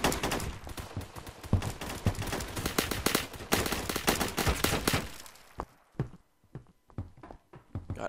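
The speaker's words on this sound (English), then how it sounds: "Do you guys hear how many bullets that dude's shooting?" Dense automatic gunfire from the video game Phantom Forces rattles loudly in rapid bursts for several seconds, then thins to scattered single shots.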